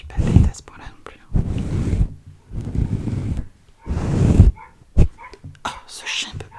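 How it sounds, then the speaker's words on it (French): A dog barks in repeated bursts, several loud barks spaced across a few seconds, with soft whispering in between. "ce chien peut pas se la fermer."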